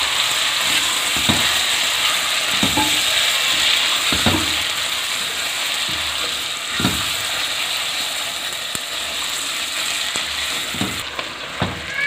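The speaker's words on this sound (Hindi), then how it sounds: "अब चिकन को इसमें हम फ्राई करेंगे, और साथ ये अदरक लहसुन का पेस्ट भी डालेंगे।" Chicken frying with ginger garlic paste for a Hyderabadi gravy, a steady loud sizzle with periodic scraping stirs of a spatula against the pan.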